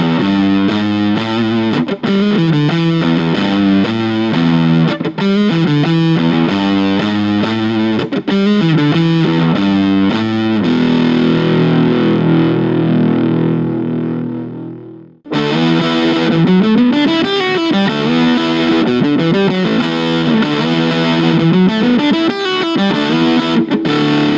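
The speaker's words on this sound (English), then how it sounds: "we're gonna be plugged into my Blue Angel amp and we're gonna be using this thin line Telecaster with TV Jones pickups" Fuzz-drenched electric guitar from a Rocky Mountain Fuzz pedal, played on a thinline Telecaster with TV Jones pickups into a Blue Angel amp; loud, continuous riffing with a sustained chord ringing out, a brief cut to silence, then more riffs.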